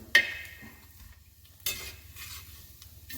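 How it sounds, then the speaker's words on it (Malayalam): Pounded dried beef fries in hot oil, giving a soft, steady sizzle with two sharp clinks of a utensil stirring against the pan. The sound is close and fairly quiet, with no talk. "ഇങ്ങനെ ഇടിച്ച് വെച്ച് എണ്ണയിൽ ഇതുപോലെ ഒന്ന് പൊരിച്ചെടുത്താൽ മതി"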